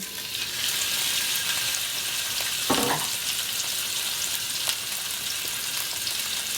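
Ground beef, 85/15 lean, frying in extra virgin olive oil in a pan, giving a steady close sizzle with brief bursts of crackle as the meat is moved.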